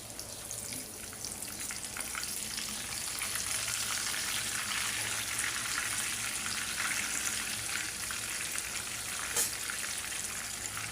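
Egg-marinated chicken pieces fry in foaming oil, producing a steady, dense crackling sizzle that holds at an even level for the whole stretch, close up and without talk.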